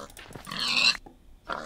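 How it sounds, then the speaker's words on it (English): A Minecraft pig being killed, a short squealing oink followed by a second, briefer pig grunt, close and clear with no talk. "I just killed a pig with a flower."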